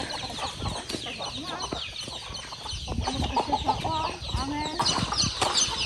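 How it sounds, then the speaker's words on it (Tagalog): Native chickens cluck in a busy rural farmyard in Mindoro, with a rooster among them. Short calls overlap continuously, fairly close, and muffled voices come through in the background. "Lalapitan ang mga manok ah."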